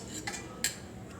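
A knife slices cooked flank steak on a cutting board, with two or three short, light clicks and taps close by in quiet surroundings.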